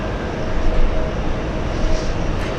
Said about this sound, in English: JetBlue 71. That's an A320.